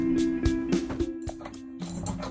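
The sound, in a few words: ratchet tightening bolts on a van bed frame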